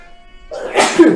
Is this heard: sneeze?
yes